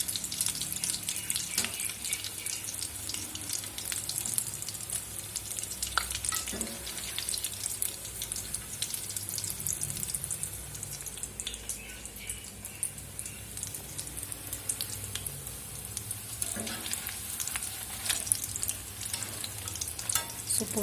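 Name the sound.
potato bondas frying in oil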